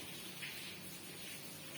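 Steady rain falls outside, a faint, even hiss of drops without a break, heard from indoors.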